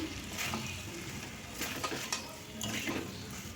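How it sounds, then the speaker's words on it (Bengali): Pre-fried potato and papaya pieces tipped into a pan of oil-releasing cooked spice paste, giving soft sizzling and frying with scraping stirs and clinks of a utensil against the pan, close and fairly quiet. "তেল ছাড়তে শুরু করেছে এবারে আমি ভেজে রাখা আলু পেঁপেগুলো দিয়ে দিচ্ছি"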